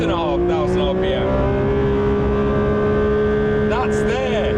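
A Porsche 911 S/T (992) engine spins up toward a 9,000 RPM red line, producing a loud, sustained, steady high-pitched whine with a voice talking over it.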